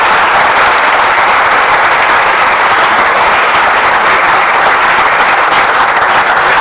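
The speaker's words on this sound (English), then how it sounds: "May I please have a round of applause for him" Audience applause for the chief guest at the Shiksha Aarambh Vyakhyan 2022 lecture, a dense, steady wash of clapping from a large crowd that holds at full level throughout without pause.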